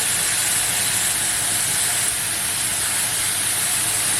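A pot of water with cabbage in it comes to the boil, giving a steady, loud, broadband bubbling hiss that runs unbroken from start to finish with no speech.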